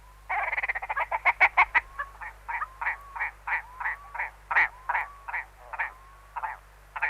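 A bird calls right beside a tent on a windy winter wild camp in the Peak District, opening with a rapid stuttering burst of notes and then slowing into evenly spaced clucking calls, near and clear with no talking.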